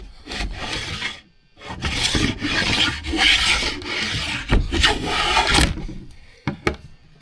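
A Sargent Shaw patented hand plane shaves across wood in a series of close, raspy strokes with short pauses between them, ending in a few lighter scrapes.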